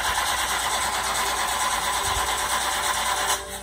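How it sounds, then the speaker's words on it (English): An overheated engine on a runaway train struggles and fails to start, giving a continuous rattling, chugging drone at a steady level that drops off abruptly near the end, with no talking. "the engine's overheated and it can't start anymore"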